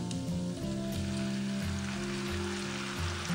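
Chicken curry and chicken pieces being stirred into chopped kottu roti on a hot griddle give a steady, dense sizzle and crackle that runs unbroken throughout, with a low rhythmic hum underneath.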